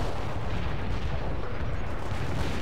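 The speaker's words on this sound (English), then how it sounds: "They're firing at us." Steady, dense rumble of distant artillery and scattered gunfire in the battlefield strategy game World in Conflict, continuous and moderately loud with no voices.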